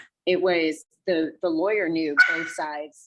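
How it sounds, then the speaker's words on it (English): A dog barks briefly in the background, a few short sharp yaps breaking in near the end while a person keeps talking over it. "sorry, that was my dog"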